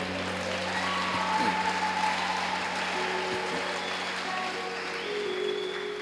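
An audience at an election gathering claps steadily in a large hall, a continuous wash of applause with a low hum and faint voices underneath.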